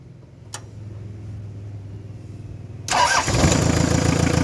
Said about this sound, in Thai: เดี๋ยวผมตาร์เครื่องให้ฟังดีกว่าเอา